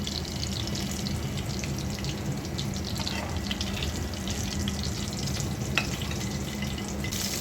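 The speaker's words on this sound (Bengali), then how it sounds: "আবারও মাছটা ভেজে নিলাম" Fish pieces frying crisp in a covered pan, a steady moderate hiss and crackle with faint clinks, sounding slightly muffled and watery, continuous throughout without talking.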